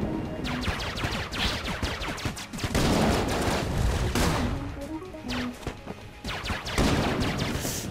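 Gunfire in the video game Enter the Gungeon: dense, continuous rapid shooting and impacts with small chimes mixed in, steady and loud throughout, with no talking.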